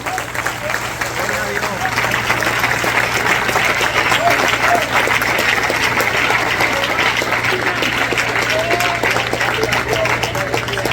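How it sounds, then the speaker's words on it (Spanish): A Spanish-speaking church congregation gives a long, sustained round of applause at a night service, a continuous dense clatter of hands with voices mixed in throughout and a steady low hum underneath. "Denle un fuerte aplauso al Señor."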